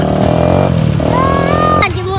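Honda XR 150L motorcycle engine on an enduro trail in western Pangasinan, loud close revving with a throaty idle that climbs in pitch, then cuts off as people talk.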